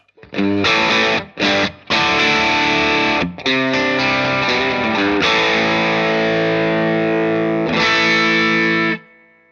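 A heavily distorted electric guitar plays chunky rock rhythm chords with short stops between them, then sustains a ringing chord before cutting off.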